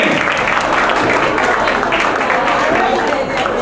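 An audience applauds steadily and loudly as Chandrakant Gala comes on stage for a speech, with dense clapping that holds evenly throughout and cuts off abruptly at the end.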